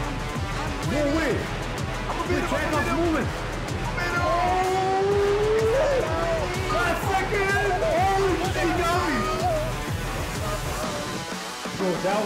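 Nissan Skyline R34 race car engine revving and shifting through a track race in a video game, with rising and falling engine tones and occasional tire squeal under almost constant excited talk.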